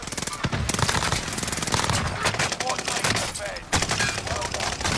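Rapid automatic gunfire in Call of Duty Warzone, dense bursts of shots rattling almost continuously with brief gaps, loud and close, with a voice talking over the shooting.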